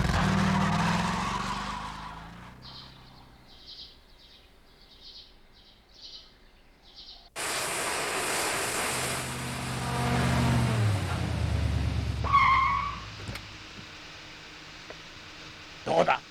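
An anime car starts up and pulls away. Faint chirps and quiet give way to a sudden, loud, sustained engine roar that swells before cutting off, with a short burst near the end.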